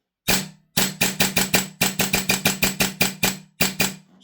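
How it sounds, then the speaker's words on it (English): A Vorsk VMP-2 gas blowback airsoft rifle dry fires in a series of sharp, loud mechanical clacks, about sixteen shots in an uneven rapid rhythm with brief gaps, close up and with no talking. "We'll try it dry firing first."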